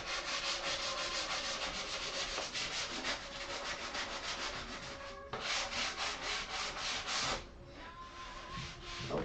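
Cedar being hand-sanded with a 220 grit sheet, a close, steady rasping scrub in continuous back-and-forth strokes, with a short pause near the middle and another near the end.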